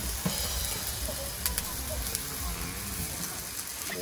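Constant sizzling and crackling of pork belly on a hot Thai tabletop grill, moo kratha style, with voices nearby over the dense frying hiss.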